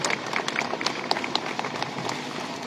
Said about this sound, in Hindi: ताली से स्वागत करें